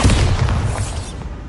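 A Bombarda spell explodes in the game Hogwarts Legacy with a loud, close booming burst, its heavy rumble filling the whole clip and fading slightly toward the end.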